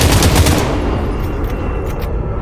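Rapid automatic gunfire from the VR battle royale game Population: One, a loud dense burst of shots rattling off continuously, then tailing into a fading echo with a few faint clicks.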